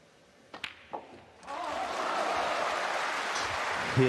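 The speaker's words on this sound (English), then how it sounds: "good applause" A few isolated claps build into steady, moderate applause from a crowd in a snooker arena, continuing evenly to the end.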